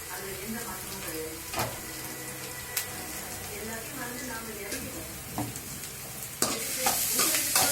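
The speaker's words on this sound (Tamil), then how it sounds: "இப்போ பார்த்திங்கன்னா வெங்காயத்தை போட்டுட்டு வெங்காயம் கொஞ்சம் ஒரு லைட்டாக வதங்கினோடனே" Onions sauté in a pan for a ragi dish with a steady sizzle, broken by sharp spoon clatters and stirring scrapes, with a louder burst of hissing near the end.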